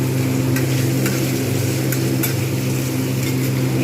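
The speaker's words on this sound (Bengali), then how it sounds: "এটা ভাজবো।" Vegetables and potatoes fry in a pan for a Bengali veg paneer dish, giving a steady, continuous sizzle at even loudness throughout, with a low hum underneath and a few faint clinks.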